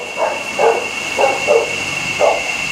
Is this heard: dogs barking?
yes